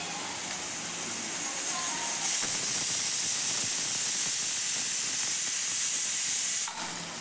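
Onion and tomato sauté together in a hot pan, a loud, dense, steady hiss that swells after a couple of seconds, holds evenly, then drops off abruptly near the end.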